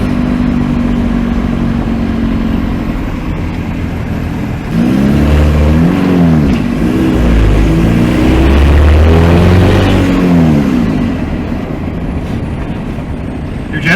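A diesel engine swapped in from a TDI, heard close and loud, idles with a steady rumble and then revs up in a couple of rising surges before settling back.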